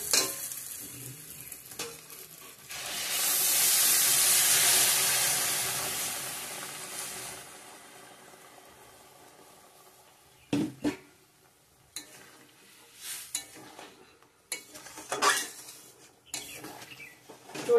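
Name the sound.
curry broth with potatoes boiling in pan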